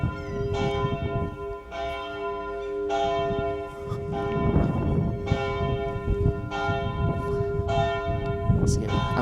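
Church bells ring out at 4 p.m. near Hamlet's castle in Denmark, with several strong repeated strikes whose long overlapping resonant tones fill the air over roughly nine seconds.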